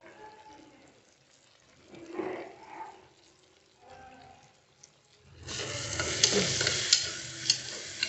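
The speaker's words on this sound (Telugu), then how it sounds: "కలుపుకోవాలి టమాటాలు ఇలా మెత్తబడాలి" Tomatoes and dried red chilies for a Sankranti mutton curry sit in a pan: a few quiet scrapes and clinks from stirring, then a sudden loud, steady sizzle with sharp pops and crackles in the last few seconds.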